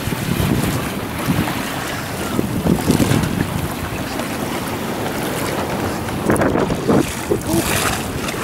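A sports catamaran rocking as a wave from a green motorboat's wake reaches it, with water slapping and splashing against the hulls amid blustery wind noise, louder bursts of sloshing coming in uneven waves.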